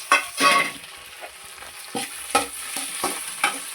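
Onions and tomatoes frying in a pan give a steady, fairly quiet sizzle, with a spatula stirring and scraping in several short bursts.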